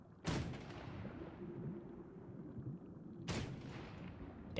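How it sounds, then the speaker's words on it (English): Two heavy cannon blasts from a video game, each a sharp loud boom with a long rumbling tail, about three seconds apart. "That's always big when you get the cannon."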